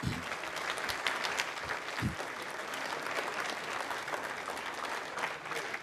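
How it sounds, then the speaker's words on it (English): Crowd of Azerbaijani spectators in blue and turquoise standing and cheering with steady applause after separation of the Azerspace AfricaSat 1A satellite on an Ariane 5 launch, a dense continuous roar of clapping from start to finish. "people from Azerbaijan in blue turquoise standing, cheering"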